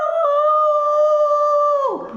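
A man imitates a dog howling after being beaten: one steady, loud, tonal howl held for about two seconds that bends down in pitch and breaks off at the end.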